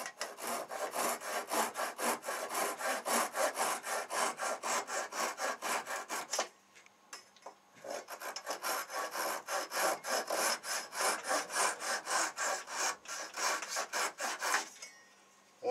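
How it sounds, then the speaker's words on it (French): A Japanese pull saw cuts through wood in rapid, even rasping strokes, loud and close, with a brief pause midway before the steady sawing resumes, no voices. "On ne coupe qu'en tirant hein, avec les produits japonais, les scies japonaises."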